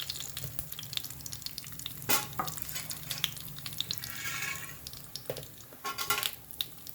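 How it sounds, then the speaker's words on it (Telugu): Cumin and mustard seeds sizzle in hot oil for tempering moringa leaf dal, a close, steady frying hiss with stirring scrapes and a few sharp metallic clinks of a spoon against the pan, with no speech. "పక్కన దీంట్లో తాలింపు వేసుకుంటున్నాను."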